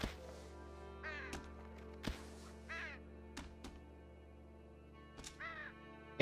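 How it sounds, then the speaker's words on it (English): Crows caw in the video game Unravel, several harsh calls scattered across a steady game soundtrack hum, some in quick pairs, with no talking. "Where's the crow? Is the crow in the window?"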